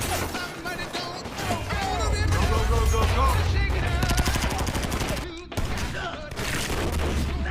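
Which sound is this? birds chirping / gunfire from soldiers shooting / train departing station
gunfire from soldiers shooting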